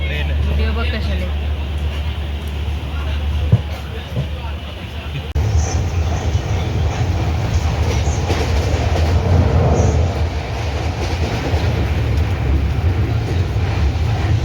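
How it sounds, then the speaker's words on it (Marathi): Train running on rails on a journey from Jamnagar to Khed, a loud steady rumble of wheels and carriage noise heard from inside, continuous throughout with a faint click near the middle. "ट्रेनचा प्रवास मी थोडा शूट केलेला"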